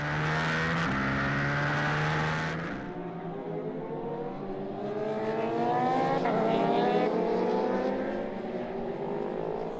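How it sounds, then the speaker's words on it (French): A KTM Super Duke motorcycle racing in the 2013 Scorpion Masters, engine droning loud and close, then pitch rising and falling through gear changes as it accelerates and sweeps past. "Dès le départ, au guidon d'une KTM Super Duke, il se positionne derrière un adversaire de choix, le leader de l'épreuve, David Knight."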